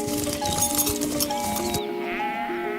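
Sheep bleating several times in quick succession, a close, wavering bleat over a faint farmyard background, with no talk.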